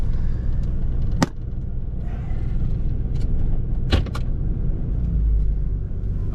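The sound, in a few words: 1988 Toyota Land Cruiser FJ62 being driven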